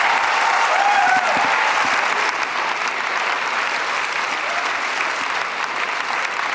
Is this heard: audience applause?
yes